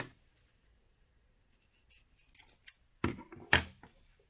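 Scissors snip through saddle material in a quiet room, a handful of sharp, close cuts bunched toward the end after near silence.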